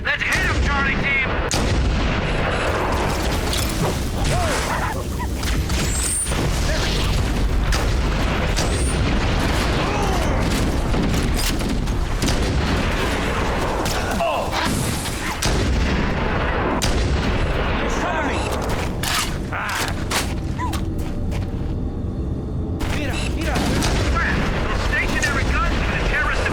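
Sustained firefight in Halo: Combat Evolved as Charlie team ambushes Covenant forces: dense, continuous gunfire and booming blasts for almost half a minute, loud throughout, with shouted voices mixed into the din.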